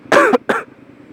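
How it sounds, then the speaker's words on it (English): Two quick, harsh coughs close up, the first longer and stronger, then quiet. "Forgive my coughing"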